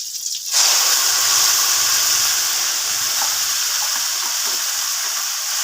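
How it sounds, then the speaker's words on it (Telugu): Gongura chutney frying in a pan with tempering, a steady loud sizzling hiss that starts abruptly and continues evenly throughout. "సిమ్లో పెట్టి వేయించుకోండి"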